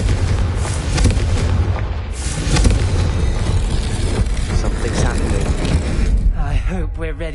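A Confringo blasting spell in the Hogwarts Legacy video game goes off as a loud, dense burst of booming explosion and crackle, holding dense energy for several seconds before thinning out near the end.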